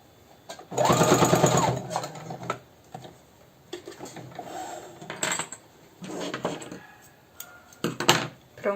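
Sewing machine stitching fabric for a baby's Japanese slipper runs in a loud, steady burst, followed by several shorter stop-start runs with clicks of handling in between.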